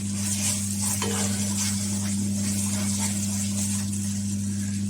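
Seafood rice base with tomato paste cooking in a pan, giving a constant soft sizzle with faint stirring scrapes over a steady low background hum.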